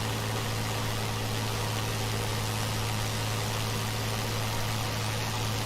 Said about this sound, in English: Engine is giving up, but she won't break.